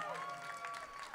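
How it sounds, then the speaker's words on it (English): Crowd applause at an outdoor vigil in Toronto, a steady wash of clapping from many hands that holds at an even level for the whole short stretch, with a few voices mixed in. "big round of applause for everyone"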